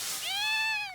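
Sprigatito, a cat-like Pokémon in the anime, gives a single short, high, rising meow, close and clear, lasting under a second.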